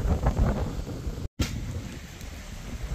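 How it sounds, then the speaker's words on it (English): Gusty wind blows steadily outdoors where flags are flying just before a rainstorm, a close rushing roar that briefly cuts out for a moment and then resumes. "Flags are flying. Well, it's windy."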